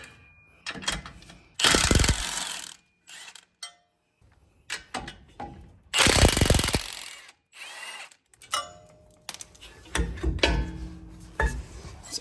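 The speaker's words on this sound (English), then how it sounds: "using an 18mm socket, I'm going to remove the caliper and hang it from the frame" A power tool with an 18mm socket removes the brake caliper on a Jeep Gladiator truck. Loud bursts of impact-driver rattling come in several separate runs, with quieter ratcheting and metal clatter between them.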